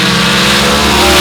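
A 788 cubic inch Bischoff Ford Hemi dirt drag racer roars at full power, a loud, continuous, close engine blast with no talk.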